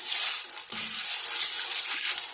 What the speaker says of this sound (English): we're going to dump our cup of popcorn, our 1/3 of a cup of sugar, and we are going to stir